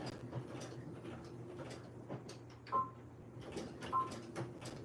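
Sewing machine back stitching fabric, with quiet mechanical whirring broken by clicks and short knocks as the machine stops and restarts.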